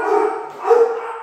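Dogs bark indoors, two loud close bursts separated by a short pause, with no talking over them.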